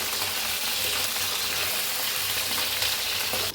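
Green chillies fry in a pan for masala mirchi and are stirred now and then. A steady, dense sizzle holds close and loud throughout, with no talking.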